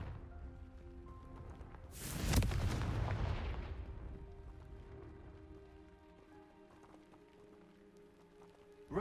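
A Confringo blasting spell cast in the Hogwarts Legacy video game bursts out as one loud, sudden explosive blast. It fades into a rumbling decay over several seconds and is heard alone, with no talk.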